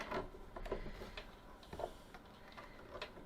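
Presser foot being swapped on a sewing machine, a faint series of small metallic clicks and taps at an uneven pace, close and quiet, with no talking.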